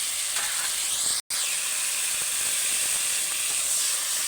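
Vegetables are stirred into fried spice paste in a pan for a Bengali fish curry, giving a steady loud sizzle and hiss with a brief break partway through and faint stirring scrapes.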